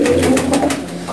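A pigeon from a pigeon-flying hobby coos in a short, steady burst of soft, low, rolling calls close to the microphone, with no voices.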